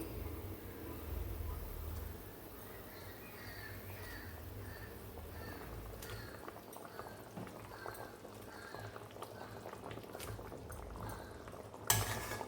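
Pieces of fried katla fish go one by one into a boiling mustard gravy, with a steady bubbling, sizzling simmer throughout and occasional soft clinks of utensils against the pan, plus a sharper clatter near the end.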